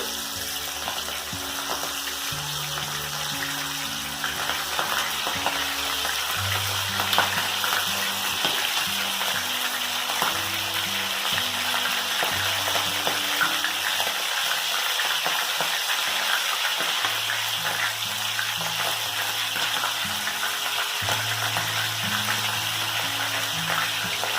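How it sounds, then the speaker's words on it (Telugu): Spiced oysters deep-fry in hot oil over medium flame, a dense, continuous bubbling sizzle that stays loud and even for the whole stretch, with a faint low hum underneath and no voices. "డీప్ ఫ్రైకి సరిపడా ఆయిల్ వేడి చేసుకొని ఇలా కొంచెం కొంచెం వేసుకోవాలి."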